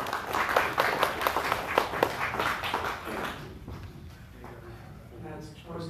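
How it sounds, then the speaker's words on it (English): Scattered applause from a small group at an amateur radio club meeting, several bursts of clapping for about three seconds before fading out, followed by quieter room sounds and a voice. "That's always good to have double applause there, Carl."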